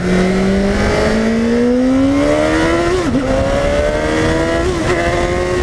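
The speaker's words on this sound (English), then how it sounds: "let's get in first gear, let's get on the highway and check out the GSX-S 750 highway pull" A 2015 Suzuki GSX-S750 motorcycle accelerates hard in first gear, its loud, close engine whine climbing steadily in pitch with a brief dip at a shift point before rising again.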